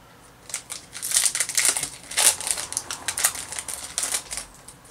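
A Pokémon Ultra Prism booster pack is torn open close up, with a rapid run of sharp foil crinkles and tearing rips that peak mid-clip and settle toward the end.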